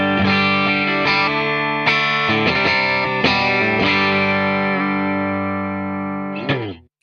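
An electric guitar on its bridge pickup plays through a Fender pedal, several loud ringing chords struck in sequence with slightly driven tone, sustaining and then fading with a final strum.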